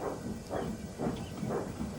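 Thomas the steam engine climbing Gordon's Hill in an animated story, with soft rhythmic puffing chuffs and a faint steady hiss of steam, quiet and even, with no talking.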